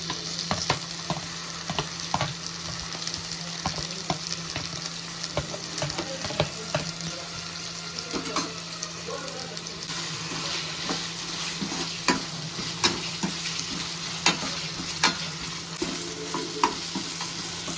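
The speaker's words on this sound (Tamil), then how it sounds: "தக்காளி நல்லா வதங்கிச்சு." Tomatoes sauté in a pan for a stingray fish curry, giving a continuous crackling sizzle punctuated by frequent spoon clinks and scrapes against the pan; no speech.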